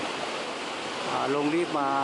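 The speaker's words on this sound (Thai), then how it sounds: "ความสูงของน้ำตกนี้ก็ ประมาณ 80 เมตรนะครับ" Kegon Falls in Nikko, Japan, an 80-metre waterfall, gives a steady, distant roar of rushing water, and someone speaks over it near the end.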